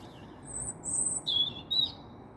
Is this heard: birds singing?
yes